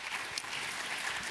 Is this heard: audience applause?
yes